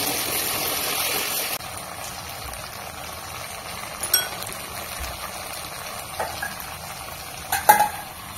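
Spice paste with ground cashew, poppy seed and melon seeds being stirred in a pan for a Bengali chicken dish: a soft, low sizzle with a few brief scraping knocks of the spoon.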